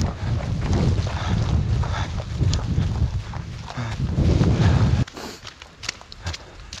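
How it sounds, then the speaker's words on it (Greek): Wind gusting on Penteli, Greece, during heavy snowfall, a loud broadband rush for about five seconds that then drops to a quieter, gustier wash, with no talk. "Εδώ κόβει και ο αέρας"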